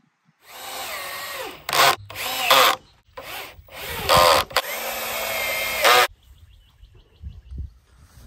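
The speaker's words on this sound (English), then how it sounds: "I installed 4 2-inch screws on each side." A power drill drives 2-inch Starhead screws into pallet wood, with several loud whirring bursts that rise and cut off, separated by short pauses, then quieter handling noises at the end.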